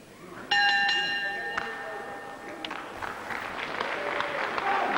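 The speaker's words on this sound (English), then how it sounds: "On the bell now" A ringing bell marks the end of a wrestling round between Steve Logan and Pat Roach, several sharp clangs over a noisy crowd, with a commentator talking beneath.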